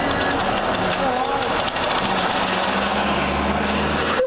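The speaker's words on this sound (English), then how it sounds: "All you need is a spare lawnmower and a dream." A spare lawnmower's small engine runs with a buzzing, rattling drone while people talk over it.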